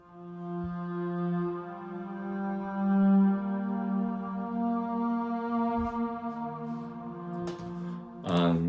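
A sustained, mellow cello string patch from a free Spitfire Audio Labs instrument holds long, layered notes at a soft level, with a few faint clicks toward the end.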